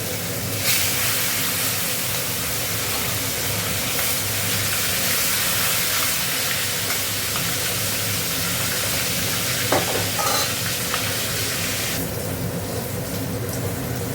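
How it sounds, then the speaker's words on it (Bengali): Pieces of cut carp fish fry in hot oil for a spicy Bengali fish curry, with a loud, steady sizzle and spatter held close for the whole stretch, plus occasional stirring and no talking. "তেলটা গরম হয়ে গেছে, মাছগুলো দিয়ে দিচ্ছি।"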